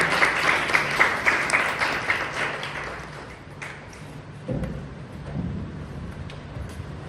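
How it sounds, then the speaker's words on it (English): Applause from the audience at a Toastmasters club meeting, fairly strong at first and then thinning out over several seconds, leaving scattered claps, a few thumps and low room noise. "Let's give a round of applause."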